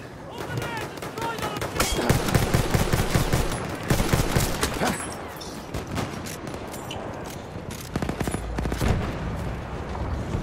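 Single-shot rifle fire in the Battlefield 1 video game, with sharp shots repeating at a steady pace over game noise and someone talking.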